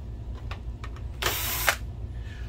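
A screwdriver backs screws out of the main board inside an Epson PowerLite Home Cinema 8100 LCD projector, giving a few faint close ticks and then one brief, louder whirring burst near the middle before quiet returns.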